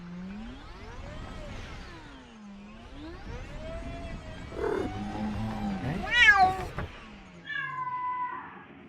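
A video game cat meows repeatedly, long wavering cries that rise and fall, followed by a sharper caterwaul and quick chirping calls, clear and close with no talking.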